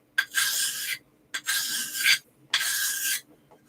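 An axe blade is sharpened by hand with a file, three separate long rasping strokes with short pauses between them, close and clear.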